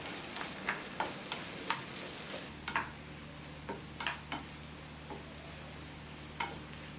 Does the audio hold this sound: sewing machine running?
no